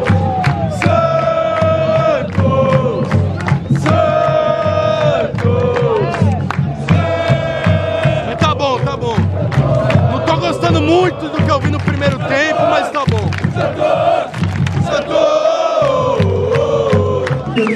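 Santos football supporters of the Torcida Jovem chant together in a stadium, a loud, dense crowd singing continuously up close with rhythmic voices and shouts throughout.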